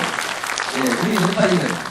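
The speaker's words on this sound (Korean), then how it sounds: "여기서 박수가 필요합니다." Audience applause at a Rotary International District 3680 president and secretary training event, steady clapping from the hall with a voice speaking over it partway through.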